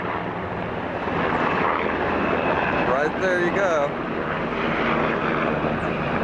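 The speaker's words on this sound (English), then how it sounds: "Very low. Black military helicopter." A low-flying black military helicopter roars steadily and loudly throughout, its engine drone filling the air while a person speaks briefly over it.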